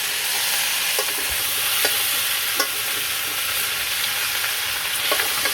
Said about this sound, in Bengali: মশলাগুলো নিয়ে আলু আর কলা দিয়ে ভালো করে মিশান লাগবে